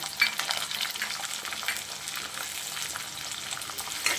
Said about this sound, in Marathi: फक्त परतून घ्यायचं एक दोन दोन मिनटासाठी